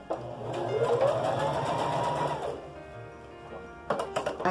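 A sewing machine stitches patchwork for a Christmas table centrepiece, its motor whirring up and holding a steady running hum for about two seconds before slowing to a stop, followed by a few faint clicks.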